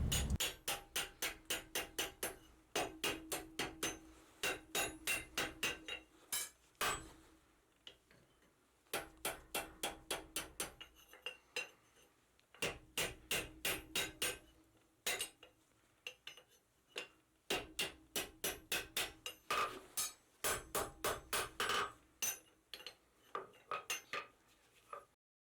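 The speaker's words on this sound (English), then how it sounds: "this is going to allow me to hammer that section without distorting that tight scroll" Rapid bursts of ringing metallic hammer blows on a steel bar being forged, repeated in regular groups with short pauses between them, sharp and bright.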